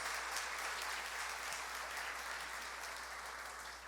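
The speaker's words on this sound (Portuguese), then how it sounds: "Nós vamos recebê-lo com uma salva de palmas também." A church congregation breaks into sustained applause welcoming a pastor to the front, a dense, even wash of many hands clapping that holds steady and fades slightly toward the end.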